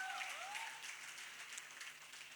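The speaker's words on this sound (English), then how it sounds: "I'd like to hear a round of applause for a man." A press conference audience applauds at a Bollywood event for Salman Khan, steady crowd clapping heard faintly and evenly throughout, with a brief trailing voice at the start.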